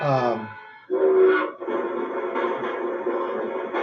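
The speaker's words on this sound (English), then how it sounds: "I'm waiting for the train to get out" A passing train rumbles steadily nearby, its horn sounding at the start, with the rolling clatter continuing throughout.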